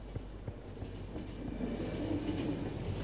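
A moving train in the video game The Final Station rumbles steadily with a low continuous drone and faint rhythmic clacks, growing slightly louder over a few seconds, with no voices.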